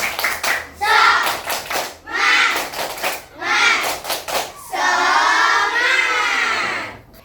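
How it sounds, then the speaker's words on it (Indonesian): A group of children claps in bursts of quick rhythmic patterns in a classroom, several rounds in a row, ending with a loud collective shout; close and lively. "Tepuk semangat."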